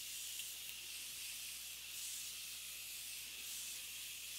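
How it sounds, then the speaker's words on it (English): Morphe Continuous Setting Mist sprayed over a face, a steady fine hissing spray that runs continuously and evenly, close and fairly loud, with no talking. "I'm just gonna go ahead and spray the whole face."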